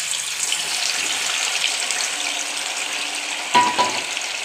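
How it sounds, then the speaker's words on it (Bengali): Paneer pieces frying in a pan for chilli paneer, a steady broadband sizzle holding throughout, with a brief louder clatter near the end. "আমি এবার পনিরগুলো ভেজে নেব।"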